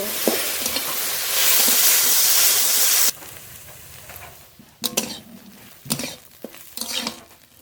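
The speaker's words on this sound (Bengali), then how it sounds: "এবার নেড়ে নেড়ে খুব ভালো করে ভেজে নেব" Okra fries in a pan with whole green chilies while being stirred, a loud hissing sizzle at first, then a quieter sputter broken by sharp scrapes and clinks of the spatula against the pan.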